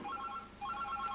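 A telephone rings with a repeating electronic trill, two clear bursts separated by a short pause, moderately loud indoors.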